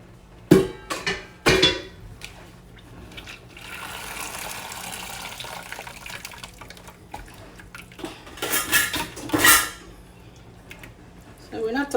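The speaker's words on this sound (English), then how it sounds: "Straining our gizzard." Boiled chicken gizzards strained in a kitchen so the stock can be kept, with a soft, steady pour of liquid in the middle and a few sharp clanks of pots and utensils before and after.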